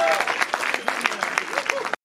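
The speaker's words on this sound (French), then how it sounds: "Oh vraiment applaudissez-la" An audience claps for an honoree at a Congolese diaspora women's celebration in Belgium, a short burst of scattered, fairly close hand claps with some voices, cutting off abruptly.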